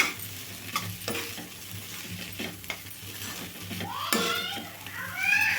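A spatula stirs fried banana flower with grated coconut in a hot pan: soft scrapes and taps over a low sizzle, close and continuous, with a faint hint of background voices near the end.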